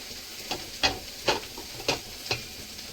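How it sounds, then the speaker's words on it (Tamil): Curry leaves stirred in a hot pan for kollu rasam, giving five or six sharp sizzling scrapes at irregular intervals over a soft, steady background hiss. "இந்த கொத்து கருவேப்பிலையும் போட்டுட்டு ஒரு ஸ்பின் பண்ணி எடுத்துட வேண்டியதுதான்"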